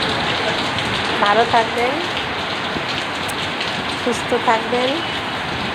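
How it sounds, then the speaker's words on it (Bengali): Night rain falling steadily, a dense even hiss of drops throughout, with a person speaking briefly over it. "2025-এর ফার্স্ট টাইম গতকাল রাতের বৃষ্টি।"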